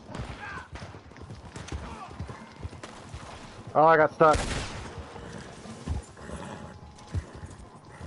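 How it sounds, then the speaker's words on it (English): Horse hooves clip-clopping in the video game Red Dead Online, steady and mid-distance under someone talking, with a brief burst of louder game noise partway through. "This horse don't go very fast."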